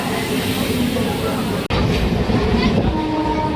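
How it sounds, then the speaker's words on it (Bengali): A train departing Sheoraphuli station rumbles loudly and steadily nearby, with a brief sharp dropout midway, then continuing mechanical noise and faint high squeals as it moves. "ট্রেন ছেড়ে দিয়েছে"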